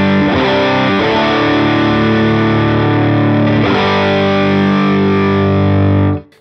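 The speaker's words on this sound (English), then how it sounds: "Here's our bass tone." A heavily distorted bass note from a Line 6 Helix amp model with the drive set high rings out loud and gritty, sustained with a couple of restrikes, then cuts off abruptly at the end.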